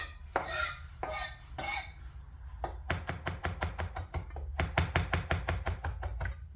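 Knife blade chopping rosemary on a cutting board with a sharp Ninja brand knife: a few slower strokes first, then quick rhythmic chops in steady runs, close and clear, no talk.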